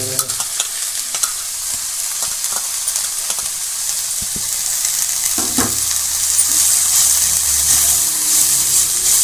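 Crushed ginger and garlic sautéing in a pan with fennel powder for a potato curry, a scattered spatula clatter at first, then a louder, steady sizzle building up, no voices.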